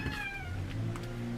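Jasmine the cat lets out a clear, drawn-out meow nearby, a single falling cry lasting about a second, over a quiet indoor background.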